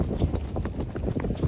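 A mare's hooves clip-clop in a steady, close rhythm of sharp knocks on hard ground, with no talk over them.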